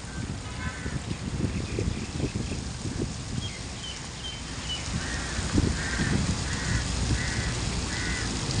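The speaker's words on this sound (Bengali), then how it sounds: "কবুতর, শালিক পাখি কীভাবে বিকালের টাইমে পানি খাওয়ার জন্য আসছে দেখেন।" Pigeons and mynas arrive to drink water in the afternoon among nearby traffic, with short repeated honking bird calls over a steady rumble of wind and vehicles.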